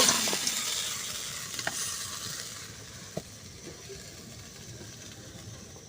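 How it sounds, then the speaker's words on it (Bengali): A spatula stirs vegetable chorchori in a pan, a soft sizzling hiss that fades gradually, with a few faint scrapes and knocks, close but quiet. "খুন্তি দিয়ে একটু ঘেটে ঘেটে দেবো"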